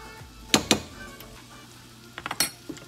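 Onion, then garlic, sautéed in a pan as the base for ginataang hipon, a Filipino shrimp and coconut milk dish: a low steady sizzle broken by two sharp utensil clinks early and a few more knocks near the end.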